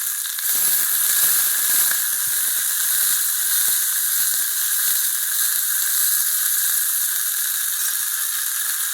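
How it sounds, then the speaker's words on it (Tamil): Turkey berries (sundakkai) fry in hot oil in a pan, giving a steady, loud, close sizzle and hiss with crackling bursts throughout and no talking. "சுண்டைக்காயை எண்ணெய் ஊற்றிட்டாங்க, காயுது. இப்போ நம்ம இதில் வறுத்தரலாம்."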